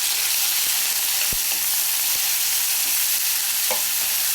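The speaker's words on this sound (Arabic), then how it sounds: "هنديها تشويحتين برضو كده" Grated onion, grated carrot and tomato stir-frying in a hot pan, giving a loud, dense, steady hiss of sizzling with a few faint clicks of a stirring spoon, and no talking.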